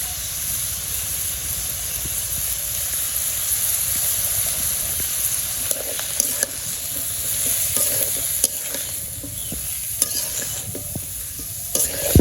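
Vegetables sautéing in a pan with cumin, radhuni, salt, turmeric and chili, a steady close sizzle with scraping stir strokes and clinks of the spatula throughout.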